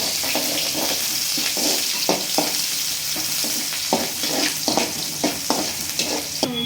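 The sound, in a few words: onions and curry leaves frying for palya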